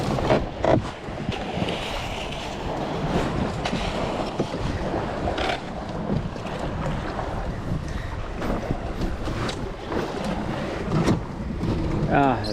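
Rough water washes and slaps around a Tucktec folding kayak as it launches from shore, a continuous churning rush mixed with heavy wind buffeting the microphone and occasional louder splashes, with someone talking over it.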